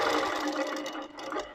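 Moxie longarm quilting machine stitching through wadding on a Loft frame, a steady close mechanical whir with fast rapid needle pulsing that runs continuously, dipping slightly near the end, with no talking.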